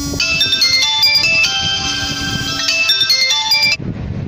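A mobile phone rings with a melodic tone for an incoming call, loud and close, repeating for nearly four seconds before cutting off abruptly.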